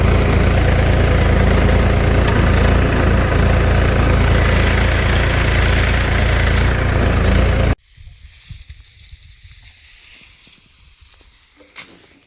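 A diesel tractor with a dumping trolley idles loudly and steadily in a continuous rumble for about eight seconds, then cuts abruptly to quieter background noise.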